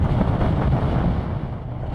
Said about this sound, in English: Unfortunately, I've got definitely more buffeting.